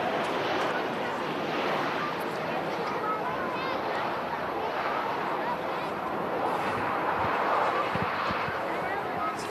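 A TUI fly airliner departs from runway 23 left at Manchester Airport, its engines a distant, steady broadband roar under constant nearby chatter and talk throughout.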